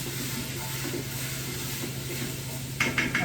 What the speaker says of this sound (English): sauteing a quick little stir